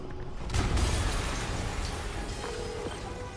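An explosion in the Marvel's Spider-Man video game bursts with a sudden deep boom, then a long, rumbling roar of debris and noise that slowly fades, heard alone without talking.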